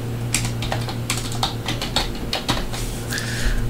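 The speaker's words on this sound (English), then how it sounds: "I'm going to type in Glendale." Keystrokes clatter on a computer keyboard while a web address and place name are entered, quick uneven taps in short bursts over a steady low electrical hum, close and clear with no voices.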